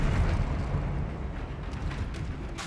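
The Incendio fire spell is cast in Hogwarts Legacy, giving a dense, steady roar of flame that fills the short moment at a loud, even level with no pauses.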